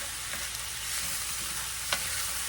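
Ground beef empanada filling fries in a big skillet, a soft steady sizzle with faint scraping from stirring and one brief sharp clink.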